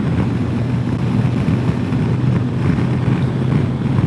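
A 2022 Kawasaki Versys 1000 SE LT+ cruising on the highway in sixth gear at about 64 mph and around 4,000 RPM: a steady engine drone under heavy, constant wind rush, with no talking.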